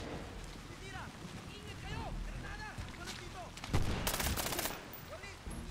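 Machine-gun fire in the Medal of Honor Warfighter video game, heard as fairly faint bursts and a louder volley near the end, with someone talking over the battle.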